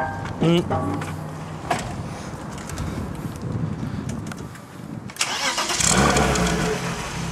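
A car with a decat exhaust and M3 silencer starts and runs, a rough mid-pitched engine rumble that surges in loud revs, with people talking nearby.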